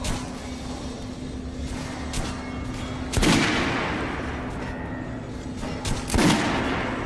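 Gunshots at a shooting range in Metro: Last Light Redux, two sharp loud reports a few seconds apart, each ringing out in a long echoing tail over a steady low hum.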